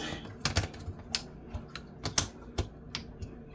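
Sharp, irregular clicks from torquing the connections on an electrical bus bar inside a 120V power distribution box, a dozen or so light snaps spaced unevenly at close range with no talking.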